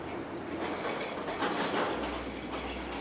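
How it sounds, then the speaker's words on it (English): A factory machine in the video game Plan B Terraform gives off a rumbling, grinding clatter, steady and moderately loud, with a rhythmic rail-like scraping texture for the whole stretch. "That's like a train being dragged down the track sideways after it's been derailed."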